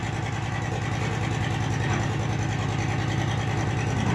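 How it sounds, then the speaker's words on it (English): A Caterpillar 3306 diesel engine runs smoothly at a steady idle, a loud, even, continuous rumble with a regular low pulse and no change in speed. "the engine running is not rough. It's like, very fine"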